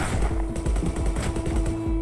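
Rapid gunfire from the video game Sword With Sauce, a quick string of sharp shots in a steady rhythm with a loud, close, clattering character.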